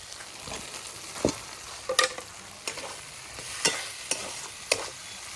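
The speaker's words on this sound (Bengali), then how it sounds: "এখন দিয়ে দেবো কুচনো টমেটো।" Chopped tomatoes go into a spice masala frying in a pan for an egg curry, giving a steady soft sizzle broken by several sharp stirring scrapes and clinks, close and fairly quiet, with no voices.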